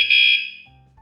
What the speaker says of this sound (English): and then it will beep once, and that will denote that the vibration alarm sensor is set